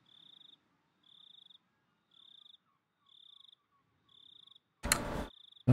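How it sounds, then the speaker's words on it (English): Cicada chirps from the Higurashi visual novel's Onikakushi chapter: five steady, evenly spaced shrill pulses about a second apart, then a brief loud burst of noise before the pulsing resumes. "we only have the cicada sounds and not anything else"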